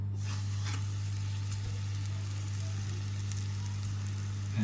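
Flatbread dough sizzles in a hot pan of olive oil, giving a steady close frying hiss with a low constant hum beneath it, uninterrupted and with no one speaking.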